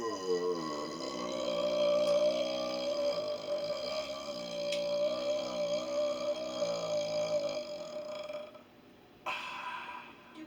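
A single long, loud burp drones on for around eight seconds with a wavering pitch, then gives way to a brief noisy burst near the end, and no talk is heard over it.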